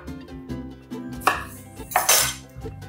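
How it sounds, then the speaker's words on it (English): Knife cutting through limes on a board in a home kitchen, with several uneven slicing strokes and clattering knocks, close and fairly loud with no talking. "I'm gonna go ahead and slice those up."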